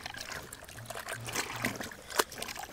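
Water poured out of a laundry tub after rinsing a stained vest, a close splashing trickle with a brief louder splash near the end.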